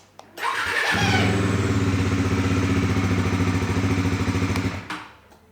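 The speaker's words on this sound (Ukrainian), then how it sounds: "зараз я заведу двигун" A Bajaj Pulsar NS400 motorcycle engine cranks and fires up, then settles into a steady, throbbing idle close by before cutting off near the end.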